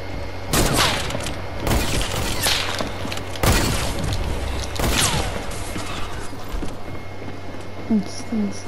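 Gunfire in Fortnite from a newly added weapon: a handful of sharp, loud shots with crackling impacts and debris, scattered irregularly over a busy game background, with a voice talking intermittently.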